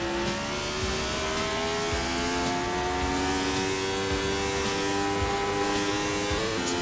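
A 1984-era turbocharged Formula 1 car engine in a racing game at the Australian Grand Prix, a loud, steady, high-revving drone held throughout with pitch climbing as the car shifts up to fourth gear.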